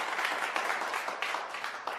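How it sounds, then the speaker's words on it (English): A hand clap sound effect played on a podcast, heard as a burst of group applause with crisp individual claps standing out from a steady, moderately loud patter. "I have some hand claps in here somewhere"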